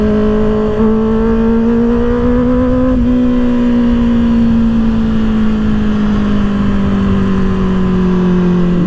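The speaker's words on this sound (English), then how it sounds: "You guys got to hear the exhaust." A 2024 Kawasaki ZX-6R with an M4 exhaust rides on a freeway, its engine droning steadily at high revs with a smooth, slowly falling pitch, loud and close throughout with no talk.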